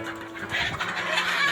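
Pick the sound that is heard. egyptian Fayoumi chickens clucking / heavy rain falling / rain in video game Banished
egyptian Fayoumi chickens clucking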